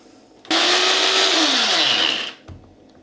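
A blender whirs loudly for about two seconds as it purees an eggplant, chickpea and pastırma meze, its pitch dropping as the mixture thickens before it cuts off abruptly.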